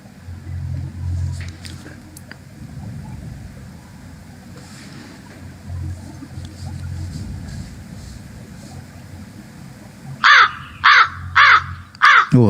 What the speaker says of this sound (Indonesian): Ada gagak.